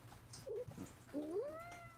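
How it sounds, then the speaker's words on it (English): A house cat gives two meows up close, a short chirping one followed by a longer rising and falling call, clear over quiet room tone. "Ooh, there's a kitty."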